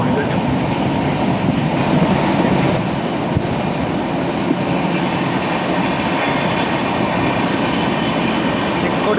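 The Netravati Express runs through Kerala with a loud, steady rumble and rattle of rolling carriages heard from on board. The sound is continuous and includes faint rhythmic clatter from the track.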